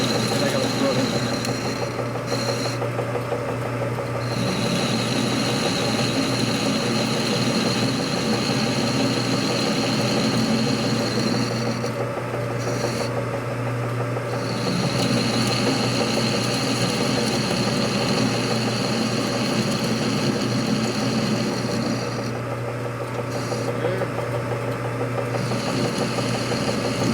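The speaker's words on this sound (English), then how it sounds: "we start cutting the shank of the bolt down to a 5/16 diameter" A lathe turns a bolt shank down to a 5/16 diameter during a Harley-Davidson rocker-arm stand bolt repair, giving a steady close mechanical drone with a faint high whine and brief interruptions.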